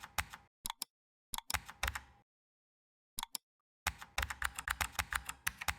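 Typing on a computer keyboard: quick bursts of crisp, close key clicks separated by short pauses, ending in a fast continuous run of keystrokes.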